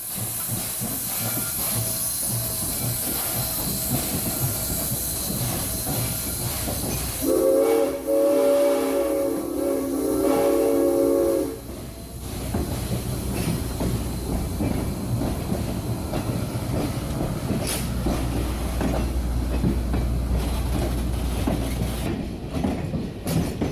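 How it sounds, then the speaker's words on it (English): A train on the Norfolk Southern Lehigh Line slips its wheels as it passes under a bridge, with a continuous loud hiss and rumble. A steady whistle-like tone holds for about four seconds partway through. "There is a bit of wheel slip as she goes under the Norfolk Southern Bridge"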